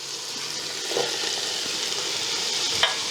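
Onions sautéing with green chillies in a pot for vegetable dum biryani, a steady soft sizzle throughout with a couple of faint stirring scrapes, no talking.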